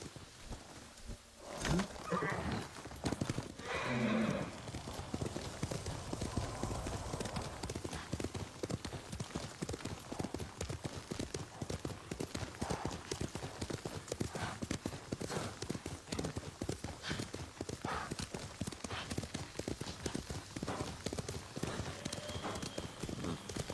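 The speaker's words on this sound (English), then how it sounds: "Horse!" Steady clip-clop of horse hooves trotting in a video game, continuous throughout, fairly loud and close, with a brief burst of other noise near the start.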